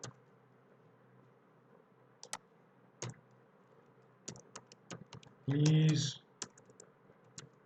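Scattered keystrokes on a computer keyboard, a few light clicks spread irregularly over quiet background hum, close and faint, with someone speaking briefly partway through.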